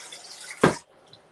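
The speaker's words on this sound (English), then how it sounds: "I'm going to put like 4 cups of water in." Water poured from a tap into a big soup pot for chicken mushroom soup, a single short gushing splash at close range, then quiet.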